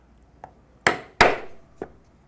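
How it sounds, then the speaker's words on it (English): A mallet strikes a 4-prong chisel punching stitching holes in leather for a wallet: two lighter taps and two sharp, loud knocks, close and isolated. "I will take the 4-prong chisel, and I will punch all the way down to the other end."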